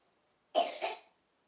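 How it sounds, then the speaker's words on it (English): A man gives a single short, rough cough, fairly close and clear against a quiet room. "he's sleeping in here and he's coughing"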